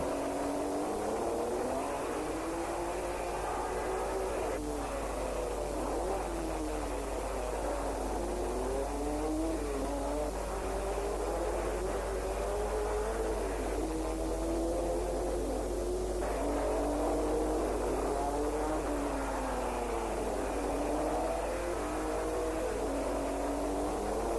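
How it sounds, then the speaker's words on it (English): Vintage 1959 front-engined racing cars, a Cooper, Aston Martins and Ferraris, roar continuously as engines rise and fall through gear changes, steady and loud with no voices. "The order was now Brabham in the Cooper, Salvadori in the Aston Martin, the Ferrari of Brooks"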